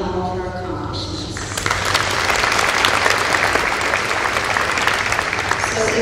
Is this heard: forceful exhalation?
no